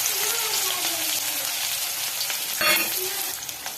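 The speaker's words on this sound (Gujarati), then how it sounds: "અહીંયા જીરું તતરી ગયું છે।" Cumin and chopped onion sizzle steadily in hot oil while frying for anda masala, a continuous close crackle with a brief louder hiss burst near the end.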